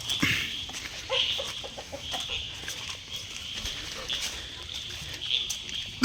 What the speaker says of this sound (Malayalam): കുട്ടൻ കോഴി പോയി കയറിക്കുക